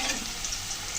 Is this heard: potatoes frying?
yes